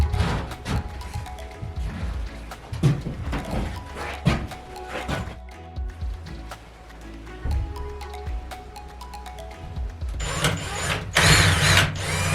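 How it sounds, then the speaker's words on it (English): A power drill fitted with an oversized bit runs in bursts against small screws while mounting a turnbuckle, whirring and grinding close up with clattering knocks between runs and a louder spell near the end. "Too big of a drill bit for these small screws."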